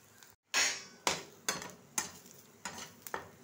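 Garlic, ginger and chili fry in a pan, a faint sizzle punctuated by six or seven sharp, evenly spaced scrapes and taps of a spatula against the pan, with no voices.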